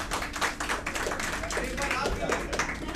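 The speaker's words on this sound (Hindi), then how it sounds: "एक बार अपने लिए भी जोरदार तालियां बजा दीजिए" At a kavi sammelan poetry recital, an audience claps in a dense, continuous round of applause that stays steady for several seconds, with voices faintly mixed in.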